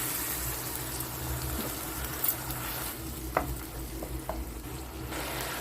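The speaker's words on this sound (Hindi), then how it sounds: "हम इसमें थोड़ा सा पानी डालेंगे।" Water poured into a pan of sizzling okra masala (dahi bhindi), a continuous hiss and crackle of frying with a few brief sharp spits and stirring clinks, close and without speech.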